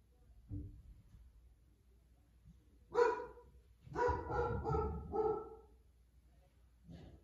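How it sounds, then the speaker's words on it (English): A dog barks indoors during a home yoga session: a single bark, then a cluster of loud, fairly close barks in quick succession, with quiet room tone between them. "Don't mind my dog barking."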